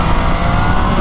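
An MV Agusta Brutale 800 RR motorcycle engine roars steadily at high revs, loud and close, a dense continuous growl held without a gear change for just over a second.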